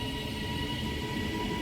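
Northern Class 331 unit 331-006 pulling out of Shipley station on the delayed 1749 service to Bradford Foster Square, a steady, even rumble with a faint high whine and no break in level.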